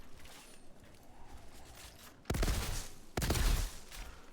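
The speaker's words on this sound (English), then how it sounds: "Oh, it's one of those auto shotguns." In the video game Outriders, an auto shotgun fires two heavy, booming blasts close together after a quiet stretch of background ambience.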